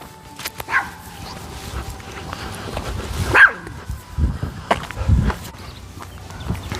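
A dog makes a few short barks and yips along with a whimpering sound, heard fairly close among household noises and footsteps, with no clear talking.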